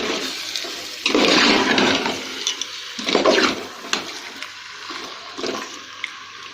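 Water poured into rice in a pot for chicken biryani, two loud gushing pours separated by a pause, then lighter trickles and splashes, close and alone.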